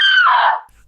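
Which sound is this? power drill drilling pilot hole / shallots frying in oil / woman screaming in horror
woman screaming in horror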